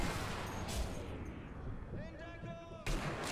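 Booming sniper rifle shots in the video game Sniper Elite V2, two heavy blasts with a long rumbling tail between them, mixed with in-game sound and a voice talking.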